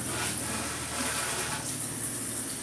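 Tap water runs steadily as washed Tupperware containers are rinsed at a kitchen sink, a close, continuous gushing stream with no talking.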